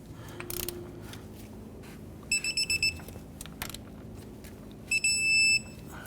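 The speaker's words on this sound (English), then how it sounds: "Let's go ahead and torque down our axle nut to" An electronic torque wrench beeps in two short bursts of rapid high-pitched tones while tightening a Hyundai Elantra front axle nut, with faint clicks and workshop handling sounds between them.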